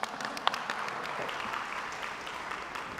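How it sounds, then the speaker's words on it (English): A school audience at a State of the Schools breakfast gives a sustained round of applause, dense even clapping from a crowd in a large room, heard at a moderate distance. "You can get a real round of applause."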